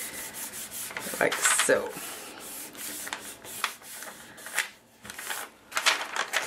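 Paper pattern piece being rubbed down onto a birthday card, a papercraft panda party design, giving dry scratchy rubbing strokes close up, with brief soft talk near the end.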